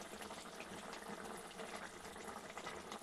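Drumstick and dry prawn curry boiling in a pot, a constant soft bubbling hiss, faint and unbroken, with no voices.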